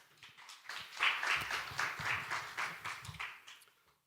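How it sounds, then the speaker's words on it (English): Audience applause at a fiscal policy workshop, a full room clapping steadily for about three seconds, swelling quickly then thinning out toward the end. "Please welcome with a big round of applause"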